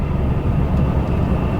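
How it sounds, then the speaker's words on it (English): Light rail train passing at a Universal Studios Hollywood park area, a steady loud low rumble and roar that holds evenly throughout without voices. "here comes one of the light rail trains"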